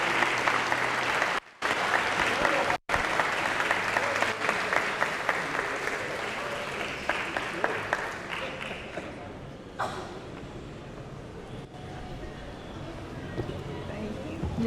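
Audience applause at a hospital celebration presentation, a steady dense clapping that stays loud and close throughout, briefly cut by two short gaps and tapering a little toward the end.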